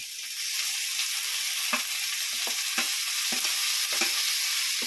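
Tomatoes frying in hot oil for prawn thokku, a steady loud sizzle broken by about half a dozen scraping stirs of the spoon against the pan, close up and with no talk.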